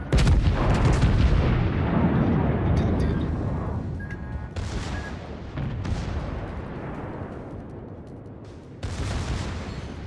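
Warship secondary guns blasting in World of Warships, with loud booms and thumping volleys rolling one after another over a dense rumbling battle backdrop, sharp new shots cutting in near the end.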